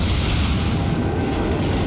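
Naval guns of the Tier IV American cruiser Phoenix in World of Warships fire as a dense, heavy rumbling boom that fills the brief moment, loud and close.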